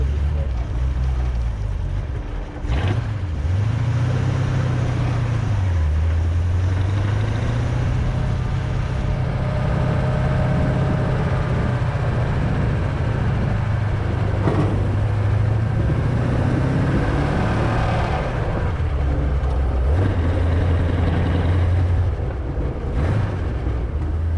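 A 1932 Ford Roadster engine drones steadily while driving on the road, with low rumbling that rises and falls as it revs and shifts, alongside wind noise, loud and close throughout.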